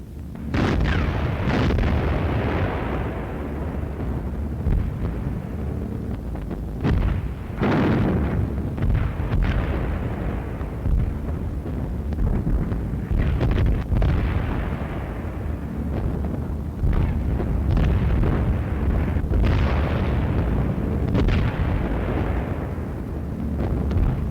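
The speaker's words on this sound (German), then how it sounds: "Leichte Infanteriegeschütze greifen ein." Light infantry guns fire in a German wartime newsreel, heavy booming blasts rolling one after another over a dense, continuous battlefield roar.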